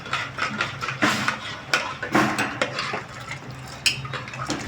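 Peas and potatoes with salt and turmeric stirred in a pressure cooker, a spoon scraping and clinking against the metal pot in repeated close, uneven strokes.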